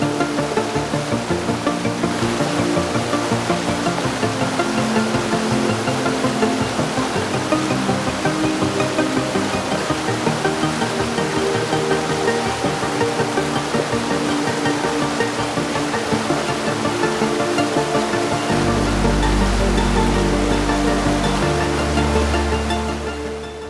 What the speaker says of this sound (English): the distant murmur of the waterfall gradually grew louder, evolving into a powerful rhythmic roar